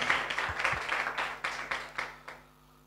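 A church congregation applauds during a sermon, a short burst of clapping that breaks into distinct rhythmic waves before fading out after a couple of seconds.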